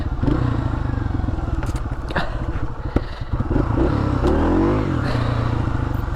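Dirt bike engine revving hard and continuously during wheelie attempts outdoors, loud and close with rising and falling throttle surges throughout.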